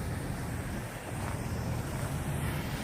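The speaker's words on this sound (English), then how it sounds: "Wind trying to force it towards the construction yard." Outdoor wind buffets the microphone during a Star Wars TIE Fighter drone flight near a construction yard, producing a steady, loud rushing roar with no speech.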